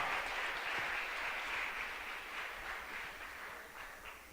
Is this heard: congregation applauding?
yes